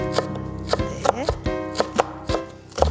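Knife julienning folded green onions for a scallion salad on a cutting board, about eight crisp, separate chops in an uneven rhythm, close and clear with no talk.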